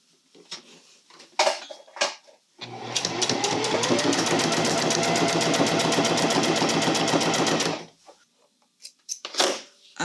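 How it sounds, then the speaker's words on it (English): A sewing machine runs steadily for about five seconds, stitching a 1/2 gauge line, with a dense rapid needle rhythm close by; brief handling clicks come before and after. "The next gauge I want to sew on is 1/2."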